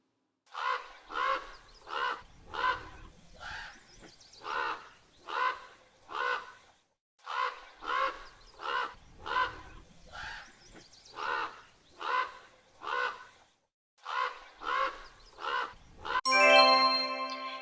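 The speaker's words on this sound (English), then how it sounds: "Crows, you know those black birds that wah, wah." Crows cawing, a steady series of loud, harsh caws in short groups of three or four with brief pauses between, ending with a short jingling tone.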